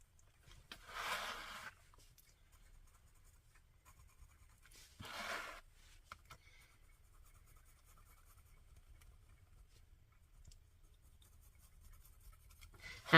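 A pencil sketches on a small art journal page, two short, soft scratchy strokes several seconds apart in an otherwise quiet room.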